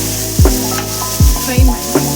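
Tomato with masala and turmeric slow frying in a pan for chicken masala gravy: a steady close sizzle broken by several low knocks and scrapes of a spoon stirring, with no voices.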